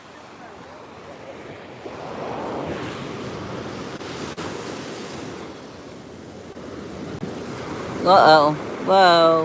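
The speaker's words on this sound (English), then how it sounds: "The ocean came and took it." Ocean surf washes up on a Florida beach in a steady, close roar with wind buffeting the microphone, and a couple of brief exclamations come near the end.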